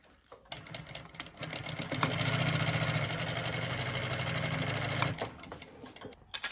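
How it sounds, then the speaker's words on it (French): Sewing machine running a steady short-stitch seam along a bag gusset with a 6 mm margin, a continuous mechanical hum lasting about three seconds at moderate loudness, bracketed by brief start and stop clicks. "Et je viens coudre avec une marge de 6 mm et un point court."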